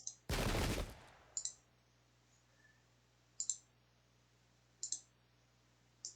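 Musket volley fire in the Pike and Shot strategy game: one loud dense crash of massed shots, followed by several short sharp crackling bursts spaced a second or so apart over a quiet background.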